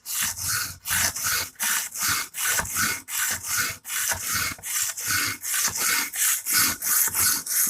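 An Emerson karambit tanto knife with a chisel grind is stroked across a sharpening stone in a steady back-and-forth rhythm, each close gritty rasp followed by a brief pause, about a dozen strokes with no talking.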